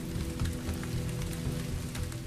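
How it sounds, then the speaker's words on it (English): Heavy monsoon rain in India pours down steadily, a dense hiss of drops drumming on surfaces with no break. "bringing with them a torrential downpour"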